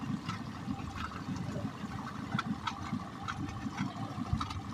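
Small kicker outboard motor idling on a fishing boat trolling for spring Chinook, a low steady mechanical putter under lapping, trickling water, fairly faint and close.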